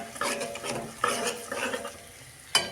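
Spoon stirring kalonji and spices in a pan while cooking fish curry, a few scraping strokes against the metal with faint sizzling and a sharp clink at the end, no talking.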